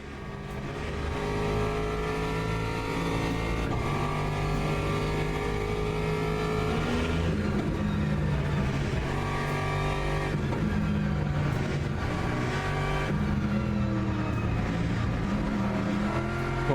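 Race car engine in the Le Mans Ultimate sim racing game revving continuously and loudly, with rising and falling pitch through gear changes over a steady, unbroken drone.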